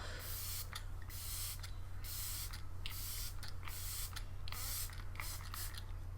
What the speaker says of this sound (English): I'm going to spray my face with my Glam Glow Setter.